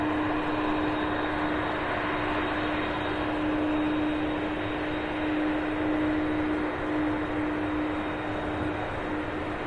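A UPS airplane at Louisville International Airport, heard as a continuous broad jet engine roar with a steady tone, sustained and moderately loud with no talk.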